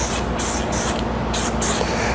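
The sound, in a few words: spray can spraying a coat of primer paint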